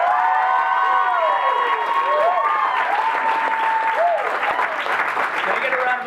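Live audience at a DePaul University Write Club literary debate clapping and cheering steadily for the full stretch, with whoops and shouted voices rising above a dense wash of applause.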